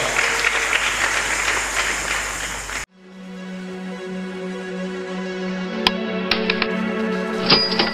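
Church congregation at a thanksgiving memorial service applauding the Lord, a dense wash of clapping for nearly three seconds that stops suddenly, followed by a quieter room with a low steady hum and a few scattered knocks.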